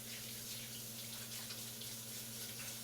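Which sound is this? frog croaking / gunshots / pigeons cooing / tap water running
tap water running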